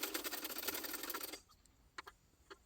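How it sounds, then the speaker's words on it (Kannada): A sewing machine stitches back tucks on a saree blouse in a quick, close, rapid whir lasting just over a second, then stops, followed by a few faint clicks. "ಎರಡು ಸೈಡು ಬ್ಯಾಕ್ ಟಕ್ಸ್ನ ಸ್ಟಿಚ್ ಹಾಕೊಳ್ತಾ ಇದ್ದೀನಿ."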